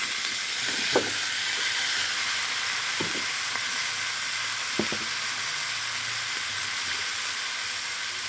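Pumpkin pieces fry in a pan with an even, close sizzle and hiss, marked by a few soft clinks and knocks of a spoon against the pan.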